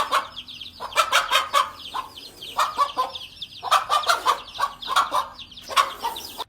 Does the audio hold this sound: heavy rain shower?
no